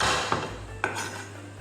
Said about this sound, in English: I have 1 piece of ginger, small, smash it